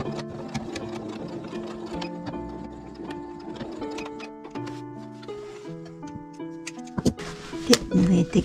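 A sewing machine stitches the bottom of a tote bag, its close, rhythmic ticking running throughout alongside steady tonal background sound.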